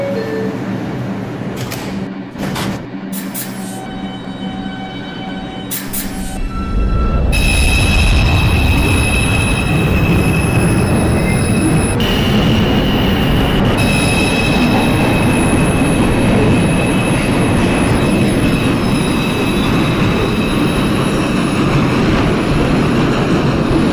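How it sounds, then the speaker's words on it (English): A Bronx-bound 2 express subway train in the OpenBVE train simulator game pulls away after a few electronic tones, then runs with a loud continuous rumble and high wheel squeal, with no voices. "This is a Bronx-bound 2 express train."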